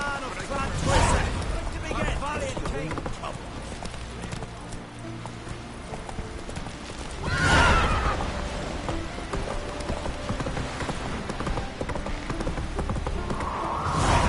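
Roach, the horse in The Witcher, clip-clopping steadily on a path with rain falling, a whinny breaking through midway, hooves close and rhythmic under faint game ambience with occasional speech.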